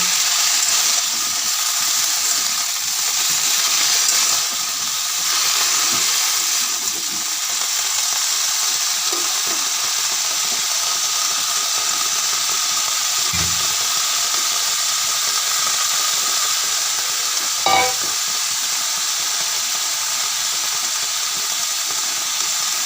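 Broccoli frying lightly in oil in a pan gives a continuous, even sizzling hiss for over twenty seconds, with a couple of faint knocks and no talk.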